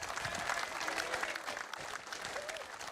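A crowd at a political rally applauds steadily, a dense sustained wash of clapping that fills the room, with faint voices under it.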